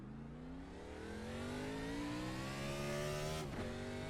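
An iRacing race car's engine revs hard pulling away from pit road, its whine climbing steadily through the gear before a quick dip at a shift, loud and close with no voices.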